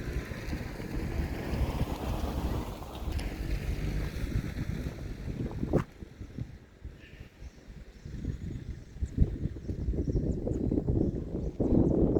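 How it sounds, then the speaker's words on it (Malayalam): Strong wind blowing outdoors in the Meghamala hills, a constant heavy buffeting rumble on the microphone that eases briefly midway and then gusts back up. "നല്ല കാറ്റ്"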